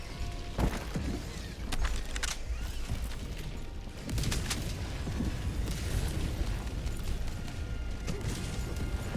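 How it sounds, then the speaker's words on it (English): Orbital barrage in Helldivers 2 pounds the area with a steady roll of heavy booming explosions, dense and continuous with sharper blasts cutting through the rumble. "Orbital barrage incoming."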